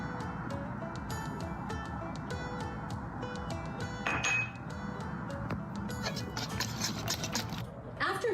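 Butter being whisked into thin crepe batter in a bowl, heard as a steady run of light, quick clinks and taps against the bowl over a soft background.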